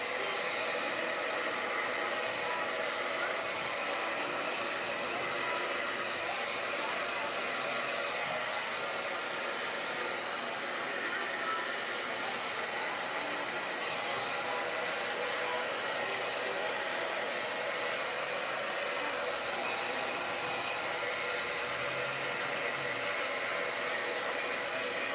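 An air blower runs continuously for the whole stretch, a steady loud hiss as it pushes acrylic paint around in a paint pour, with no voices over it.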